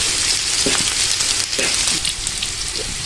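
Onion and cumin frying in pure mustard oil for a chicken curry with spinach and potatoes, a close, steady sizzle with occasional stirring scrapes and pops.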